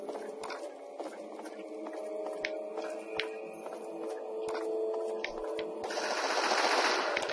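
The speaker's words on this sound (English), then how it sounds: "I hear gunfire." Rapid automatic gunfire in the video game Fallout 3, a dense mechanical rattle of repeated shots running continuously, with a louder, noisier burst near the end.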